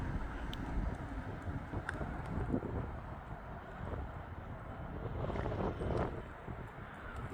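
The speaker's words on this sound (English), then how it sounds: "that wind is blowing." Wind gusts outside a meetinghouse with tall windows in Jaffrey, New Hampshire, a faint, low, rushing buffet that swells and eases across the microphone.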